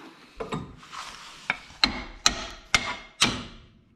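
Hammer blows ring out while springs are being repaired on a Mercedes 290GD: about eight sharp metallic strikes, close and distinct, irregular at first and then coming in a quicker, steady rhythm with short pauses between them.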